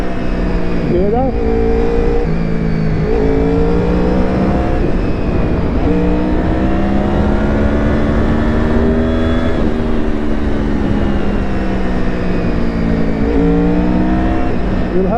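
Honda VFR 800 fifth-generation motorcycle engine revs and climbs through repeated rising pitch sweeps, loud and close, with steady road noise underneath and a voice partly heard over it.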